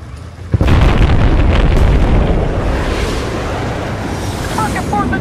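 Airstrike explosions from JDAM bombs in Battlefield Bad Company 2: a sudden loud boom hits after a half second, followed by a long heavy rumbling roar that slowly fades, with faint voice chatter underneath.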